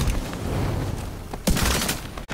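Rapid bursts of gunfire from a video game shooter, loud and close, with a sharper volley near the end followed by a brief cut to silence.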